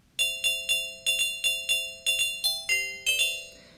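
Vibraphone notes from an iPad instrument app ring out one at a time, about a dozen bright metallic tones in a steady, melodic sequence, each with a soft sustained decay, close and clear with no talking.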